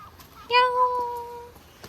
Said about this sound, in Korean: 우와 고양이 왜 이렇게 많아요 여기?